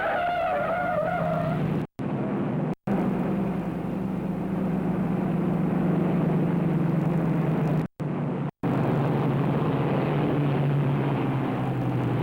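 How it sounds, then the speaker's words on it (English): Tires squeal in a long, steady screech under a loud engine of a 1955–1957 Chevrolet climbing a grade from a standing start, continuing for several seconds with two brief breaks. "And you heard that tire squeal?"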